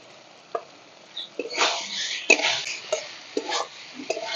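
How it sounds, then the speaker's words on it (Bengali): Potatoes and paneer sautéing with spices in hot oil, with a soft sizzle broken by intermittent scraping and stirring strokes of a spoon in the pan, moderately close and without any talk. "একটু ভালো করে আলুর সাথে পনিরের সাথে মশলার সাথে কষে নিয়েছে"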